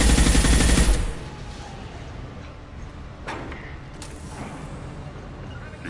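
Gunfire in the video game Mass Effect 2: a loud, dense burst of rapid shots fills the first second, then fades to a low background with a few scattered, sharper reports.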